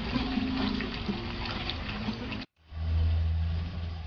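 Hot water poured into masala roasting in oil for a Konkani-style surmai fish curry: a loud, continuous rushing hiss that drops out briefly, then resumes with a deeper bubbling rumble.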